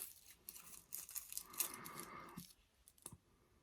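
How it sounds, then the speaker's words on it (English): Scissors snip through stretchy craft paper to cut flower petals, making a quiet series of crisp, close cuts with small clicks and rustles between them. "And I'm just going to cut the same way."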